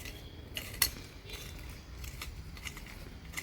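A garden rake scratches and stirs loose soil mixed with fertilizer in a spinach bed, giving a steady close gritty scraping with small clicks of stones and clods and no talk.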